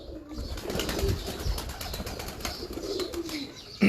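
Fancy pure-bred pigeons with red-ringed eyes coo softly in a loft, a low murmuring burble amid faint flutters and rustle, with light background noise and no clear speech.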